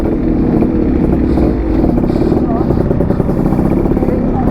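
Two-stroke Yamaha RX motorcycles ride off near Devarayanadurga, their engines making a dense, continuous rasping drone close by, with overlapping revs throughout.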